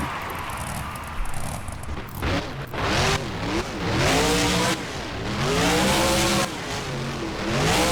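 Monster truck in BeamNG during a Monster Jam World Finals freestyle run, its engine loud and close, revving up and down in repeated rising and falling sweeps, with bursts of tire and landing noise between the surges.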